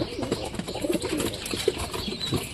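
Pigeons coo softly and repeatedly while feeding outdoors, low murmuring calls overlapping at close range, with occasional light wing flutters and faint chirps mixed in.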